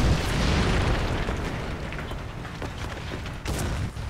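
Tank cannon fire and explosions in War Thunder's tank battles make a continuous loud, rumbling roar with heavy low booms and a sharper burst near the end. No voices are heard over it.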